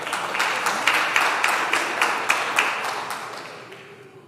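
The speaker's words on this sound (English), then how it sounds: "Give yourselves a round of applause." An audience at a school long service awards ceremony applauds, with dense clapping and sharp individual claps that gradually fade over a few seconds.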